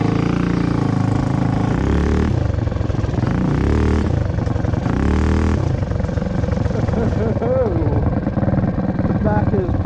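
A mini bike with a Tillotson 225cc engine and a Juggernaut CVT pulley revs loud and close, its pitch rising and dropping through several throttle blips, with a voice speaking over it.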